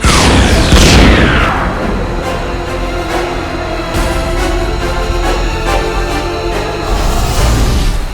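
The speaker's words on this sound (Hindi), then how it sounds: "ये फायरिंग कैसी?" Warning gunfire in a TV show booms out loud at the start, a heavy blast with a descending sweep, then rumbling echoes and scattered sharp cracks over a dense dramatic music bed, swelling again near the end.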